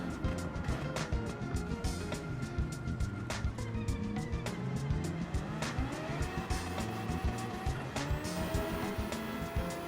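BMW E30 M3 Gr.3 race car in Gran Turismo 7, its engine revving loudly and continuously through rising and falling gear changes, with brief tire squeal over the steady roar and no talk.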